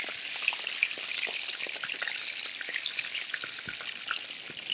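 Chicken pieces for a Bangladeshi rezala fry over high heat in a pan, a dense, even crackling sizzle with small pops and spatters, close and steady without any voices.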